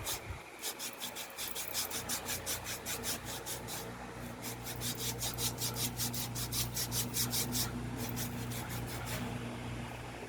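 A foot file rasps against a callus during a pedicure in fast, rhythmic back-and-forth strokes, close and steady, with a couple of short pauses between bursts.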